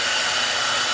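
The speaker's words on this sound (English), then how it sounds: "we're going to take the hairdryer and we shoot it again" Hair dryer blowing on curled bangs in an 80s-style hairdo, a loud, steady, close rush of air that holds unbroken throughout, with no one speaking.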